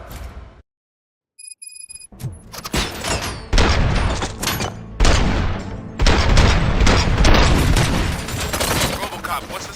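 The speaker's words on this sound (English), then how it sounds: "Gunshots? What's going on?" Gunfire in the Robocop Rogue City video game, a sudden loud fusillade of rapid shots and booms that bursts in after a brief silence and keeps going, dense and close, with talk mixed in.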